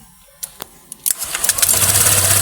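A car engine cranks and fires up after a throttle body cleaning, with a few clicks and sputters before it catches and settles into a steady, loud idle close by.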